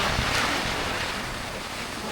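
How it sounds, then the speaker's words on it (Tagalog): Strong gusting wind with rushing, rain-like broadband noise by the sea on an island, loud and steady throughout with buffeting against the microphone and no talk. "Yung biglang lakas ng hangin at biglang lakas ng ulan."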